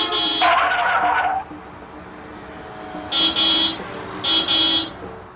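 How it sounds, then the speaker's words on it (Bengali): A car horn honks in the street, repeated short blasts with a burst near the start and two more around the middle and end, heard from nearby over background traffic noise. "ওই গাড়িটা হর্ন বাজাচ্ছে কেন?"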